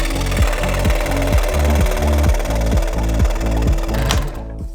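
A power saw cuts through an MDF board with a loud, close, rapidly pulsing buzz that holds steady for several seconds before stopping abruptly.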